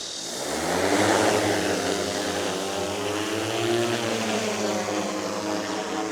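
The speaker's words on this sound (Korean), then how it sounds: "그래서 시작을 누르게 되면 바로 이륙을 합니다." A DJI Matrice 350 RTK drone lifts off with a loud, steady propeller roar and harmonic whine that swells early and holds close, with no talk over it.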